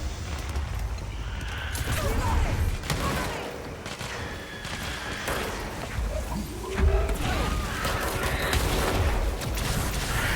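Bursts of gunfire in the video game Control crack and boom repeatedly over a busy mix of game effects, with rapid shots clustered throughout and a heavier blast near the end; voices talk intermittently.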